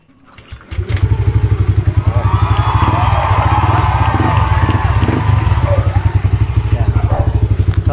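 A motorcycle showing an error 12 fault is started with its starter button; after a brief crank the engine catches within a second and settles into a loud, steady, throbbing idle that continues to the end.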